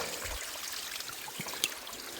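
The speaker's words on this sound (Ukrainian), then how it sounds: "Таке тут джерельце." A small mountain spring trickles softly and steadily nearby, a faint continuous dribble of water without other sounds.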